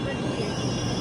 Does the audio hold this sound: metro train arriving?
yes